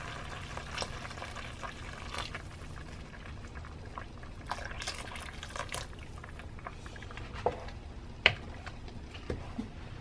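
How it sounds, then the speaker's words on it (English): Liquid is poured into a pot of rice cooking for ground beef enchiladas, giving a steady simmering, bubbling wash with occasional sharp clinks and splashes, fairly close and alone with no talking. "So I'm gonna add more liquid."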